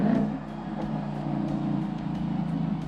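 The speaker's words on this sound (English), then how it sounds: "when you downshift, this specific Mustang has what is called rev matching" A manual Ford Mustang with rev matching downshifting, its engine droning and rising in a steady low growl, close and loud with a faint rhythmic pulsing throughout.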